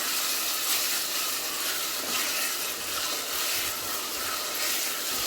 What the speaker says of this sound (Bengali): আদা রসুন বাটা দিয়ে আমি আবারও তেলের মধ্যে কষাবো